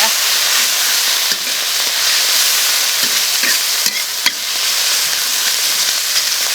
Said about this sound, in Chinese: 把这炒散，炒香。